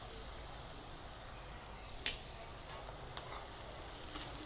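Chopped ripe green chillies sizzle quietly in a hot pan, with a few soft clinks of a utensil as they are stirred, the steady low frying hiss continuing throughout.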